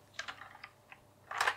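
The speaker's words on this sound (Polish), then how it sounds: "sprawdźmy teraz sobie anti-ghosting tej klawiatury" A Cooler Master MasterKeys Pro L mechanical keyboard tested for anti-ghosting: a few separate key clicks, then a dense burst of many keys pressed together, close and crisp against a quiet background.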